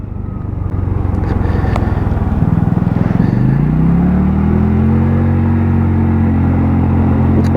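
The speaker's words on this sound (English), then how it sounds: "this is a great little scooter." AJS Modena 125cc scooter ridden through town, its small engine droning loud and close, revving up steadily and then holding a constant whirring pitch as it cruises.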